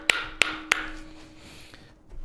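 A metal tabla tuning hammer strikes the drum three times in quick, evenly spaced succession, each tap bright and ringing, followed by a fading resonant tone and quiet room noise.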